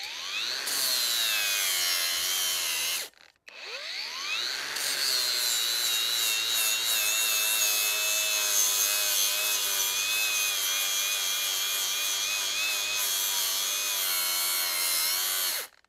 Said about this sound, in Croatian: idemo znači na maksimum da vidimo kako radi mašina u brušenju